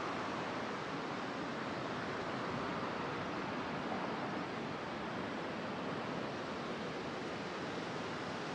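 River water rushing steadily below a bridge on the southern outskirts of Nagaoka, Japan, on a misty, drizzly day; a constant broadband wash with no talk.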